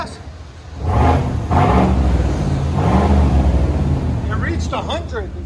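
2019 GMC Sierra with a 5.3L engine and dual exhaust with muffler delete, revving loudly up close while sitting still, a deep rumbling roar that swells and holds, with a voice speaking near the end.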